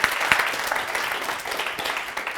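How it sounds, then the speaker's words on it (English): Audience applause rings out for Caroline after her talk on resilience, a dense, steady round of clapping from a crowd that holds for a couple of seconds with a few sharper claps on top. "Could we give Caroline one big thunderous round of applause?"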